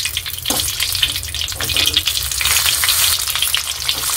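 Chillies and vegetables, some chillies pierced, fry in a pan with a dense, loud sizzle and crackle, broken by scraping stirs and occasional pops.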